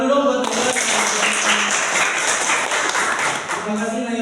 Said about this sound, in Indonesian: Tepuk tangan dulu dong buat Naila